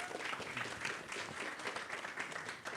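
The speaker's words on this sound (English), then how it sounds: "final round of applause for you" Quiet, distant round of applause from the audience at a school board meeting, steady clapping throughout at low level.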